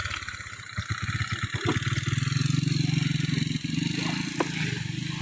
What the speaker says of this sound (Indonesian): Nih motor paling the best nih guys